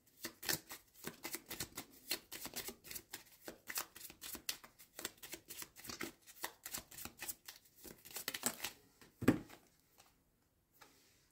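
Playing cards being shuffled and drawn for a romantic tarot-style reading, a close, rapid run of crisp riffling flutters and snaps with brief pauses, ending in a sharp card slap and quiet.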